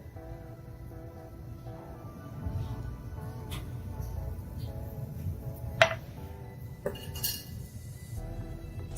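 Eggs, salt, pepper and beer whisked together in a bowl for tempura batter, quiet clinks and taps of utensil on dish, with a couple of sharper metallic knocks partway through, close by.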